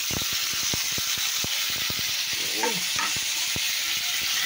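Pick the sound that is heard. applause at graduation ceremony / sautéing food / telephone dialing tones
sautéing food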